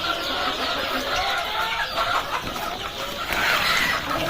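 Country (gavran) chickens and month-old chicks on a poultry farm in the morning cluck steadily and overlap in a dense, close chorus, with occasional louder calls and no voices.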